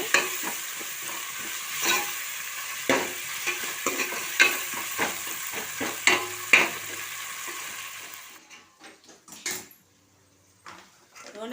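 Onions and ginger paste fry in oil in a pan, giving a close, continuous sizzle broken by repeated sharp scrapes and clinks of a spoon stirring. The frying sound cuts off near the end, leaving a few quiet knocks.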